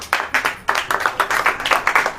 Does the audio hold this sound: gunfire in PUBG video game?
no